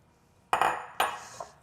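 Two sharp clinks and scraping of a utensil against a bowl while tuna from six cans, diced onion and celery are stirred together, close and fairly loud over a quiet background.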